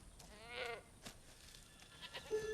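A goat bleats once in a wavering, quavering cry, fairly close, with a few soft knocks and a brief high squeak after it, no talking.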